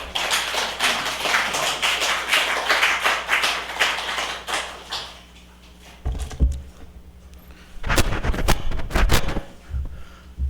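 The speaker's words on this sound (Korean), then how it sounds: "뜨거운 박수로 맞아 주시면 감사하겠습니다" A church congregation claps warmly to welcome a missionary to the pulpit, dense close applause for about five seconds, then a quiet pause broken by a few sharp taps and handling knocks.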